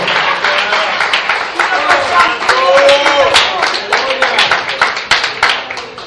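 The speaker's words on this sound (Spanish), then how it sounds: "Den un fuerte aplauso al Señor." Loud, crisp congregational clapping at a Spanish-language church service, with sharp individual claps ringing out over a singing or shouting voice and music-like tones, continuing steadily throughout.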